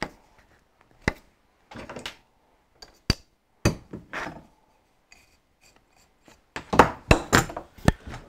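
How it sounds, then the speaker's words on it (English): Several sharp hammer taps on a Chinese semi-universal dividing head being stripped down, at irregular intervals, mixed with scraping and rattling of parts, busier toward the end. "just give it a bit of a tap with a hammer first."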